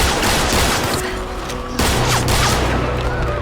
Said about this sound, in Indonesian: Jung Hyun yang sudah sangat geram dan marah langsung menghujani Ayon dengan tembakan bertubi-tubi.